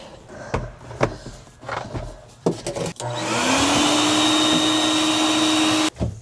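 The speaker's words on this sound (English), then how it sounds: "I probably should vacuum again" A vacuum cleaner switches on with a rising whine and runs steadily and loudly, then cuts off; scattered knocks and handling sounds come before it.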